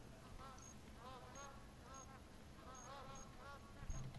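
Geese in the video game TheHunter give honking calls that repeat in short groups over a steady background hiss, fairly faint and at a distance.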